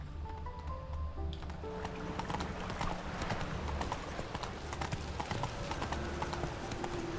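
Horse hooves clip-clop at a steady gait in The Witcher 3 video game, close and distinct, running through the whole stretch over low game ambience.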